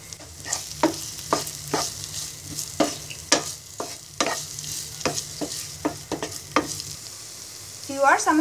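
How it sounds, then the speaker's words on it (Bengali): Onion, tomato and boiled chicken frying together in a pan: a low steady sizzle punctuated by frequent sharp spatula knocks and scrapes, with a brief voice coming in at the very end. "টমেটো এবং মুরগির মাংস ভাজা হয়ে গেছে।"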